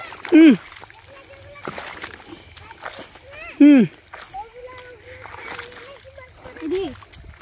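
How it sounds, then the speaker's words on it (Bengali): Irrigation water splashes and sloshes as it flows into a potato field, with intermittent splatters under frequent outdoor talk and a few sharp loud bursts. "জমিতে এখন আমরা আলুতে জল দিচ্ছি"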